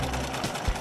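Sewing machine stitching together fabric pieces for a homemade mermaid costume, a short, steady mechanical whir heard alone at close range.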